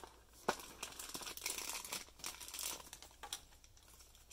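Plastic toy packaging for a Nendoroid figure is unwrapped close by, with continuous loud crinkling and rustling and a few sharp crackles throughout.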